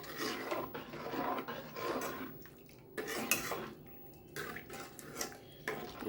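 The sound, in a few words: stirring mashed potato into tomato curry in a pot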